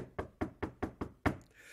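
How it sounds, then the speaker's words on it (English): Six firm knocks rap on a door in an even, quick rhythm, the last one hardest, heard up close with no talking. "There's a knock at the door."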